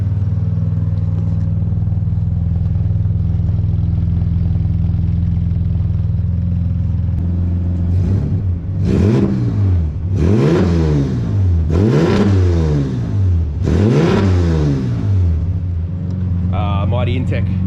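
An old budget drift car, a Honda with a Mighty Intech engine, starts up and then revs repeatedly in several rising and falling bursts over a steady low idle, close and loud.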